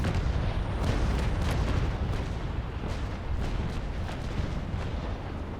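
Warship cannons fire in Naval Action during a fleet battle, giving a heavy rumbling barrage of overlapping booms and cracks that stays loud and dense throughout, with no talk.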